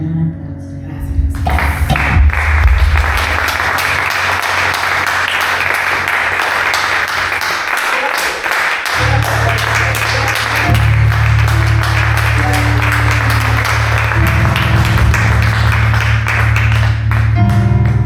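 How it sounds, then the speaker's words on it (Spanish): A church congregation applauding, broad clapping mixed with music and voices, loud and sustained over a held musical backing. "Vamos a darle un aplauso"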